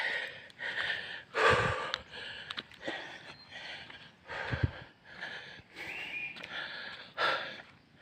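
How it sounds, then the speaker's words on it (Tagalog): Heavy, labored panting from someone climbing a steep road in Marinduque, the Philippines: close, rhythmic gasps and huffing breaths that repeat steadily for about eight seconds. "Hingal tayo, hingal na."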